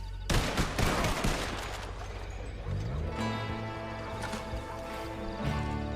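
Gunfire from a firing squad in a video game, a loud volley of rapid overlapping shots right at the start followed by a few scattered reports, then a low rumbling, ringing game soundscape.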